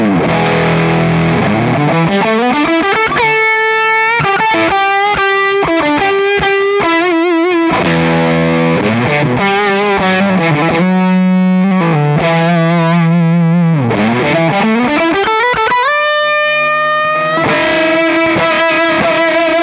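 Distorted electric guitar through a fuzz pedal, playing a loud, thick, saturated riff of sustained chords and bending notes that slide up and down, with brief gaps between phrases and no voices.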